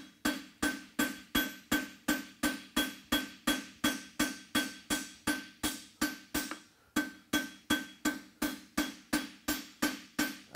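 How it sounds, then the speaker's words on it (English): Steady, rhythmic hammer blows forging a horseshoe ring out one after another, loud and close, with a bright metallic clang on each strike and a brief pause midway. "taking our time to overlap every hammer blow so it's really nice and smooth."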